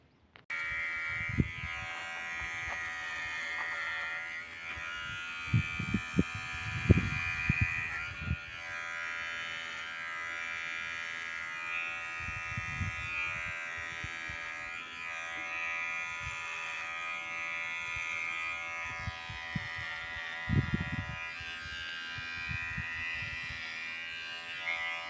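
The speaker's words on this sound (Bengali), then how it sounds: "এই একটা মেশিন দিয়েই দেখেন চুল কাটবে" An electric hair clipper buzzes steadily while cutting hair outdoors in a Saudi desert, a continuous high whine with scattered soft thumps and rustles, fairly faint and without talk.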